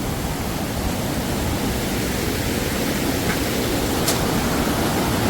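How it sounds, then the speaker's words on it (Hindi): Water pouring down from above into the Parvati river on a mountain trek near a rough temporary wooden bridge, heard as a steady, loud broadband rush that fills the whole moment without a break. "ऊपर से पानी आता हुआ"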